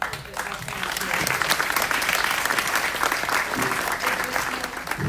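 A room of attendees at a panel discussion on economic mobility applauds warmly, dense clapping holding steady for several seconds with faint crowd voices mixed in beneath.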